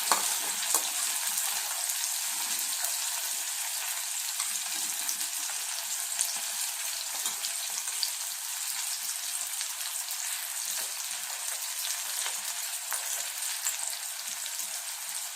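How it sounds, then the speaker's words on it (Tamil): Salted capsicum pieces, already soaked in salt, sautéed in a pan of hot oil for pickle give a steady close sizzle and crackle throughout, with faint stirring scrapes and no talking. "இது வந்து லேசாக வதக்கினா போதும்."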